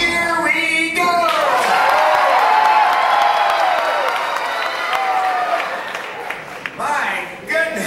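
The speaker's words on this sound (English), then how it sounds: "I think you can clap and possibly cheer a bit louder than that." A theme-park show audience at Disneyland Resort claps and cheers loudly, a dense wash of applause and whoops that swells and then fades, with a performer's voice briefly at the start and end.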